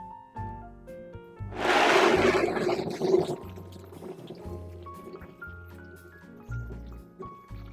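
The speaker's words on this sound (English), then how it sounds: "So now we blended that up for a minute" A household blender whirring through almonds and a litre of water to make almond milk, a loud burst of churning liquid lasting about two seconds, under background music.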